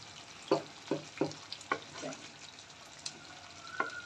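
Palak chicken with milk and crushed green chillies is being stirred in a pan, a spoon scraping and clacking in several distinct strokes over a soft, quiet simmering sizzle.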